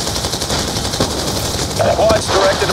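Enemy gunfire in the video game Call of Duty Black Ops 2, dense rattling automatic bursts mixed with game sound effects, loud and continuous, with a radio-style voice talking over it.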